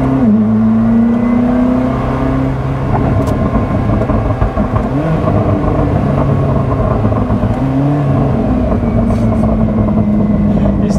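Onboard a Koenigsegg Jesko supercar, the engine roars loudly as it accelerates, rising tones climbing and dropping through several gear changes across the whole stretch, close and dominant.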